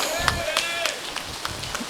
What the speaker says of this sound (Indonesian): Tepuk tangannya Bapak Ibu.